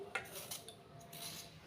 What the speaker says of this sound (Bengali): একটা যে ছুলা নিয়েছি, ছুলার সাহায্যে আলুর উপরেই ছুলে নিচ্ছি